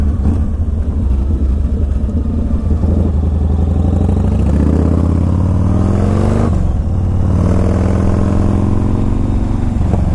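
Yamaha Raider motorcycle engine accelerating out of a tight corner, a loud, continuous close-up engine roar with rising, sweeping pitch as the throttle rolls on, briefly dipping near the middle before climbing again.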